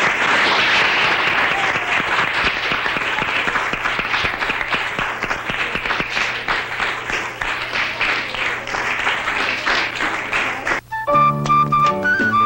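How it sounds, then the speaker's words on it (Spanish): Sustained, dense applause from a large group in a 1970s Cuban school, steady and full for about eleven seconds before cutting abruptly to music. "Vamos a darle un aplauso"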